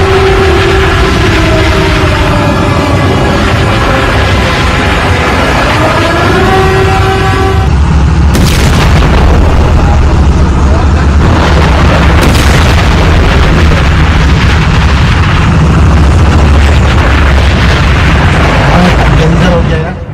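Heavy booms from an Iranian missile strike on a large Saudi oil refinery at night, loud and rumbling, with sharp blasts standing out above continuous low roar and a rising whistle-like tone early on.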